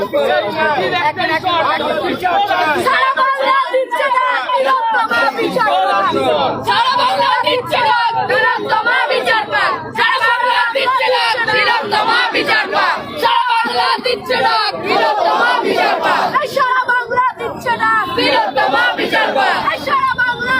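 Dense crowd of protesters chanting slogans and shouting outside Chief Minister Mamata Banerjee's residence, a loud continuous mass of voices with rhythmic chant bursts and overlapping chatter throughout.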